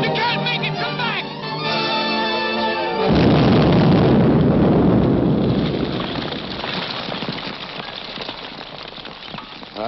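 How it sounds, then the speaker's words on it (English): After a few seconds of music, a loud, rumbling explosion bursts out, roaring heavily before gradually fading into scattered crackling noise. "Explosion got Grogan, too."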